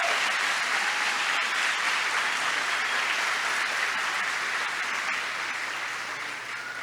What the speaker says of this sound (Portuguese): Uma salva de palmas ao Uvarino.